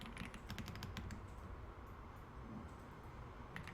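Keystrokes on a computer keyboard as a file name is entered in a save dialog during Excel exam practice; a quick burst of clicky taps in the first second, then sparser, softer presses over a quiet room background.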